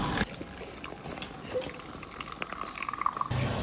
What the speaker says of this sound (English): As the air from the balloon pushes into the bottle, water will begin flowing out of the straw.